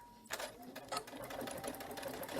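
A computerized sewing machine runs a standard stitch on a quilt with tightened tension. A rapid, steady needle rattle starts after a brief pause and continues close and clear.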